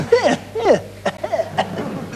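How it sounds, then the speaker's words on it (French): A few short, harsh coughs, close and fairly loud, breaking up a moment of voiced, laugh-like sounds. "Tu me dis tousser, je tousse"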